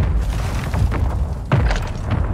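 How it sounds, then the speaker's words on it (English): Heavy booming blasts from a mortar strike in the video game Warzone 2, a rolling low rumble with a fresh loud impact midway, continuous and close. "Hostile mortar strike near your position"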